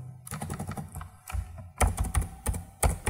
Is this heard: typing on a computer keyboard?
yes